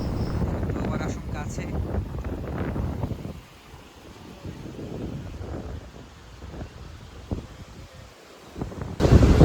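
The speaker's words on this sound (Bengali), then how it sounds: "অনেক বাতাস, মোবাইলটা ধরে রাখতে কষ্ট হচ্ছে।" Strong wind on a beach at Saint Martin island buffets the microphone with rough, low, gusty rumbles that ease midway and surge again at the end, with some talking mixed in.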